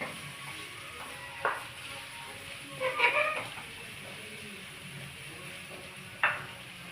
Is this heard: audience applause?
no